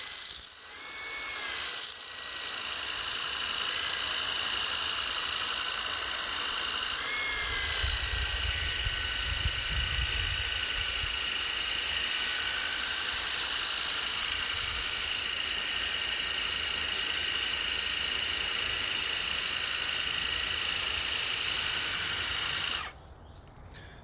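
A Worx Hydroshot pressure washer with a turbo nozzle blasts concrete in a continuous loud hiss and spray roar, with a slight pitch shift partway through, before cutting off abruptly near the end.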